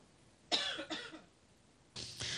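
A person coughs twice, once a short rough burst and then a second burst a moment later, both close and fairly quiet in an otherwise silent room.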